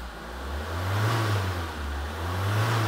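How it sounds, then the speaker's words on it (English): A car engine revs sharply and rises to a steady roar, then dips and climbs again. It is close and continuous, with no voices. "Now we'll give it some sharp revs."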